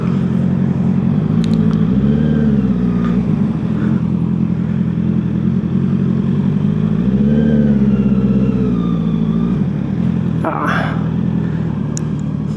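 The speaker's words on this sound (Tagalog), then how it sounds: "Dami sasakyan." Riding a Honda CB650R with E-Clutch through busy road traffic, the engine rumbles and rises and falls with revs under steady wind and road noise, with passing vehicles around and a rider talking over it.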